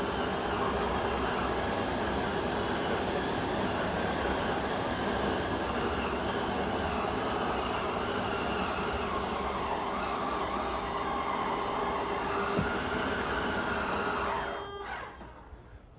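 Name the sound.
Keystone Cougar RV wardrobe slide-out extending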